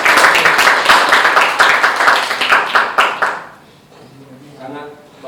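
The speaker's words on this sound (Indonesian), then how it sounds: "Terima kasih Tepuk tangan." An audience claps in a steady burst of many hands for about three seconds after a talk on ritual purification, then the applause stops and a faint voice begins speaking.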